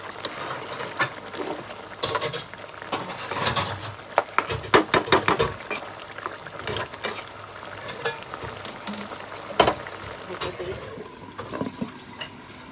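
Snakehead (shol) fish fries bhuna style in a pan, a close, busy sizzle with bursts of crackling and scraping stirring strokes recurring throughout.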